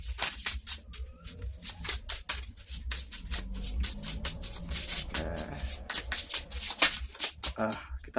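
Rapid riffling and flapping of a deck of cards being shuffled up close, repeated bursts of crisp paper snaps running throughout.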